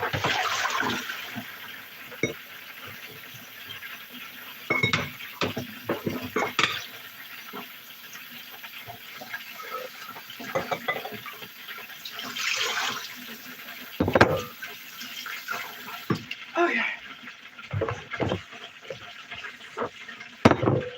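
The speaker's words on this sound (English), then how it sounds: "Because I'm going to use this to rinse the rice." Water splashes and swishes as rice is rinsed in a bowl in a home kitchen, in irregular bursts of sloshing and clinking against the bowl, close and moderately loud, with no talking.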